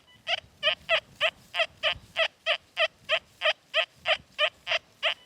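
XP Deus II metal detector sounding its iron tone over an iron target: a steady series of about sixteen short, evenly spaced buzzing beeps, moderately loud and close, with faint background rumble.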